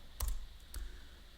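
A few quick key clicks as a command is typed on a computer keyboard while installing Arch Linux, two brief clusters of taps close by in a quiet room.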